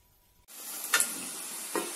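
Vegetable spring rolls drop into hot oil and begin deep frying, with a sudden close sizzle that continues steadily and rises in brief bubbling surges.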